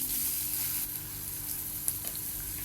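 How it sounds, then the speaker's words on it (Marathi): Chopped onion frying in hot oil in a kadhai while making radish-leaf bhaji, a steady bright sizzle with a few soft stirring clicks, close and unbroken, no talking. "मी कढई ठेवली, त्यात तेल टाकून घेतलं आहे. आता आपण कांदा टाकून घेऊया."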